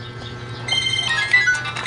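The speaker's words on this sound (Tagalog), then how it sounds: "Ayan, may meron na pong tumawag." A phone rings with an incoming call to a box maker's shop in Cebu, a short electronic melodic ringtone of rising and falling tones heard close and alone for about two seconds.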